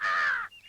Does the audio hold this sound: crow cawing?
yes